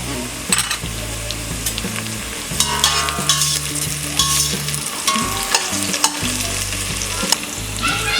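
Green chilies and onion fry in a pan for an Indian aloo pulao, a steady close sizzle with repeated scraping strokes of a spatula stirring throughout, no talking.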